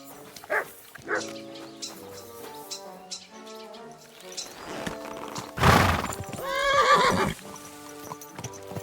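Horse in Kingdom Come: Deliverance 2 giving a loud, close whinny, with hoof clops and snorts set over soft game music.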